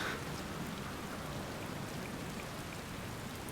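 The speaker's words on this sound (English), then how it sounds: "It's also raining a lot." Steady rain pours down in the Outer Wilds game world, a dense even hiss of drops on surfaces that stays constant throughout with no breaks or thunder.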